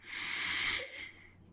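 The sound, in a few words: deep breath in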